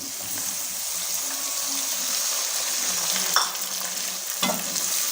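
Chopped tomatoes go into a pan of sizzling dhaba-style bhindi masala, and the okra hisses steadily in hot oil with a couple of soft stirring clatters near the end.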